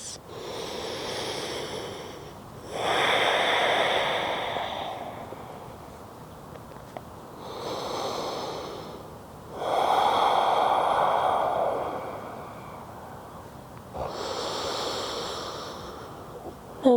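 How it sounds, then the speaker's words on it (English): Slow, deep breathing during a gentle vinyasa yoga flow, with long airy inhales and exhales swelling and fading in a steady rhythm, close and soft with no talking. "3 deep breaths."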